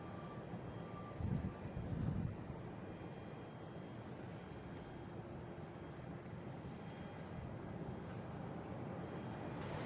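A Delta Boeing 737-800 jet bound for Miami produces a distant, steady engine roar at Boston Logan airport, a broad rumbling wash with a short louder swell early on.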